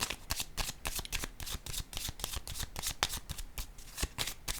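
Tarot cards being shuffled and drawn, a rapid, continuous flutter of riffling cards with sharp slaps, close and fairly quiet.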